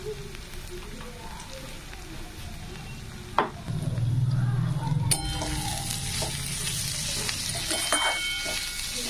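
Turmeric, red chili and cumin fry with garlic greens in a pan for aloo methi, a continuous close sizzle with stirring scrapes and a sharp clatter partway through, and faint talk in the background.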